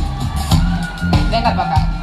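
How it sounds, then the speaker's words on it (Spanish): A live show audience in Tehuacán, Puebla cheers and applauds with whoops and shouts, a loud crowd roar with bursts of yelling across the whole moment. "¡Un aplauso!"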